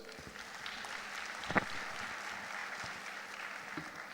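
Steady applause from a crowd at a bar association conference, sustained throughout with a couple of sharper claps standing out, heard at moderate distance.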